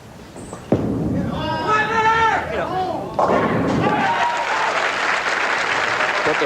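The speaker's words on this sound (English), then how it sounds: "Jeff Miller opens with a resounding strike" A bowling ball crashes into the pins for a strike at a 1988 PBA tournament in Milwaukee, a sharp loud impact followed by pins clattering, then crowd applause and cheering swelling right after.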